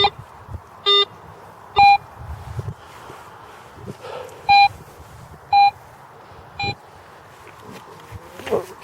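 A handheld metal detector beeps in short, clear tones, seven or so spaced irregularly over several seconds, above low rumbling and scuffing handling noise outdoors.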